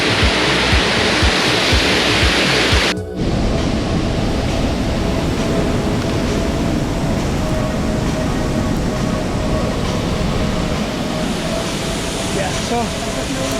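Waterfall in Bali found on an off-the-beaten-path hike, a loud continuous rushing roar of falling water, briefly interrupted near the start, then steady and close throughout.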